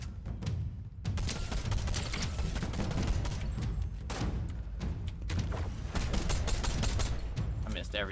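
Sustained gunfire in a Fortnite No Build match: dense, rapid shots and a crackling fusillade run steadily from start to finish at a fairly distant, even level. Voices talk over parts of it.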